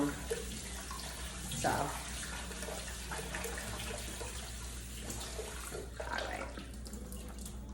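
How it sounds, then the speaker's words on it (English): Tempeh is rinsed under a running kitchen tap, with a steady close hiss of water throughout and a few splashy bursts as it hits the pieces. A person speaks briefly over it. "you want to drain these and rinse them"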